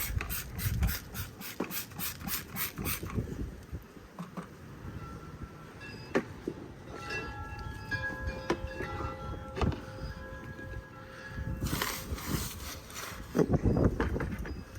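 A brush scrubbing car tires coated with Adam's Polishes wheel and tire cleaner, steady rough rubbing strokes close by, with a few clanks and squeaks partway through and no talk.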